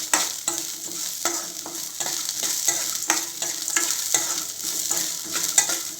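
Carrots and beans frying with onion in a pan while being stirred, a soft continuous sizzle broken by repeated scraping taps of the spoon, close and with no talking.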